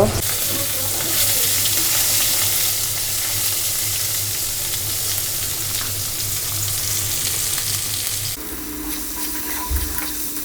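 Dried fish sizzles steadily in a pan for about eight seconds, then the frying drops back to a quieter crackle with a low hum underneath; no one speaks.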